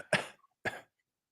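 Two separate coughs from one person with a short pause between them, heard in a recorded talk, fairly close and with no speech around them.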